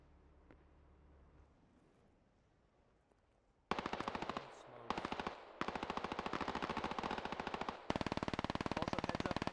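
Sustained automatic gunfire in the military shooter game Squad, starting after a few seconds of quiet and running in dense rapid bursts with short gaps, loud and close.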